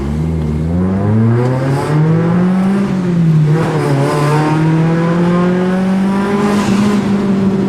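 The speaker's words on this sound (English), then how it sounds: "I bet the exhaust sounds real nice echoing off all this concrete" Deep exhaust of a Mitsubishi Mirage revving and rising, its rumble echoing off concrete with a boomy reverberant tone, loud and continuous, pitch climbing and dipping as the engine works.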